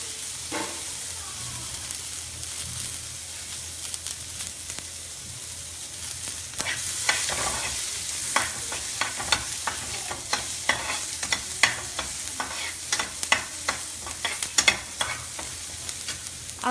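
Chopped leftover French fries stirred in a frying pan sizzle continuously, with frequent sharp scraping and clattering strokes of the spatula growing busier toward the end.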